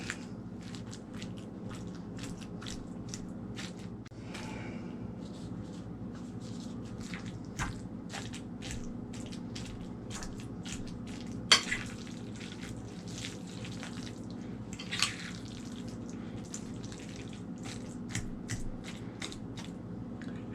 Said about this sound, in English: until we mash them. So let's keep on doing this and then stirring it around a little bit.